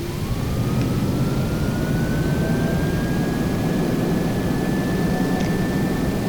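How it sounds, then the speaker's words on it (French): Loud, steady roar of an airliner's jet engines at full thrust during stall recovery, a continuous low rumble with a rising whine that climbs and holds. "Je renvoie les moteurs à fond."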